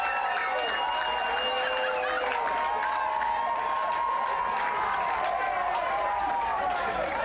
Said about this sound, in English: As the crowd erupts in the background.